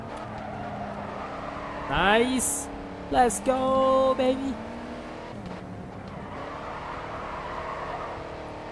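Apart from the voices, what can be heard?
race car engine in GRID 2 video game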